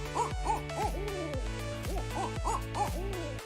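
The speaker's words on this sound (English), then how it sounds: "Large nocturnal birds called barred owls are perhaps most recognized for their distinctive calls," A barred owl gives a series of deep, rhythmic hoots, about eight or nine evenly spaced notes with rising and falling inflections, clear and fairly close with no other sounds.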